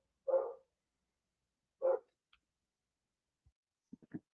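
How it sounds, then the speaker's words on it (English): Dogs bark twice, a second apart, followed by a few softer yips. The barks sound moderately distant and stand alone, with no talk over them. "Dogs, dogs are upset, barking about stuff."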